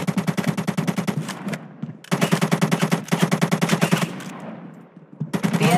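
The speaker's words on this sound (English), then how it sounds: "An enemy player's firing on you." Rapid bursts of automatic gunfire from an enemy player in the zombie shooter video game ZOZ: Final Hour, loud and close, coming in several long volleys separated by brief pauses, with no voices.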